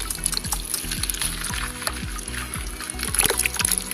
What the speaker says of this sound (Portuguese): Ele tá jogando pra uma água mais limpa